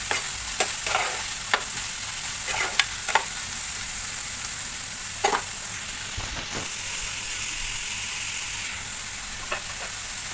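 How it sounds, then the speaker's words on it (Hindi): Onion, carrot and capsicum sautéed on high flame for chicken cheese box patties, a continuous sizzle broken by sharp spatula scrapes and taps against the pan at irregular intervals, no speech. "और इसके साथ में इसको हम अच्छे से सौटे कर लेंगे।"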